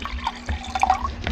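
Fresh water pours and trickles into a container holding frogbit and scuds, with soft splashing and a few small drips close by, steady and fairly quiet.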